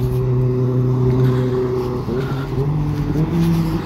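A motorbike passes close by, its steady engine drone shifting pitch midway as it goes past, loud and continuous with no talk over it.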